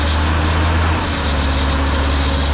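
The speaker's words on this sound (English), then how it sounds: "I do have our air compressor on the back of my truck. It was running a little bit rough" A loud tow-behind air compressor, mounted on the back of a truck and running rough with a little smoke, drones continuously up close with a low, uneven, lumpy throb, running steadily without pause.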